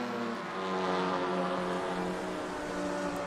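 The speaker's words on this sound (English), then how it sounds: "The Honda engine. That is apparently VTEC." A Honda VTEC race car engine in Raceroom, during a TCR/GT4 race at Laguna Seca, holds a steady high-revving drone for a few seconds, fairly faint and distant-sounding.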